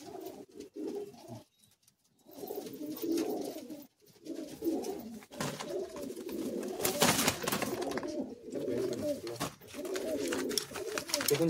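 Madrasi high flying pigeons coo steadily in a loft, a breeding pair among them, with soft repeated burbling calls close by and brief quiet gaps, while a person talks intermittently over the birds.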